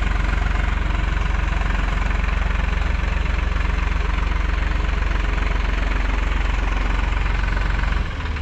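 A heavy Hattat 4x4 tractor engine runs steadily and loudly with a low, rumbling idle throughout, cutting off abruptly near the end.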